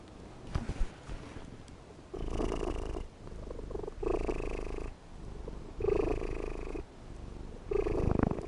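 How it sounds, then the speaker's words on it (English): A cat purrs close up while perched on a person's shoulder, a steady rumbling in long repeated breaths with short pauses between, near and fairly loud, with a few faint clicks and no talking. "Can you hear the cat?"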